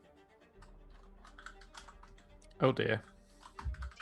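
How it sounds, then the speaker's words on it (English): Someone taps on a computer keyboard in scattered bursts of light clicks, then a louder cluster of keystrokes, with a brief spoken exclamation near the end. "You can hear me typing"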